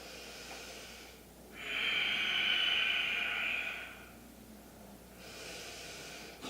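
Slow, deep breath during a yoga practice, a long breathy exhale rising and holding for about two seconds, then fading, with quieter breathing before and after; close and alone, no talk.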